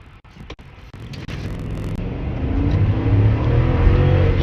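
A 2025 Chevy Suburban with a 6.2L V8 and 10-speed transmission accelerates hard from a stop, heard from inside. The engine note builds steadily louder and deeper over several seconds, with a few brief knocks near the start.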